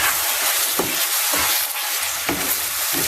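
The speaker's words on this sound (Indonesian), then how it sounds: "Kita tumis sampai matang." Spice paste sautéing in a pan with torn lime leaves and bay leaves, a close hissing sizzle broken by scraping and stirring strokes at an irregular pace.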